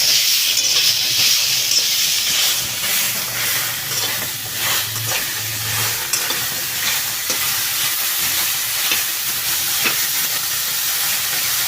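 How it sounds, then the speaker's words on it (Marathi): Tomatoes and onions roasting in a pan for a paneer masala, a steady loud hissing sizzle with faint stirring sounds throughout, no talk. "त्याच्यामध्येच आपण टोमॅटो भाजून घेऊ"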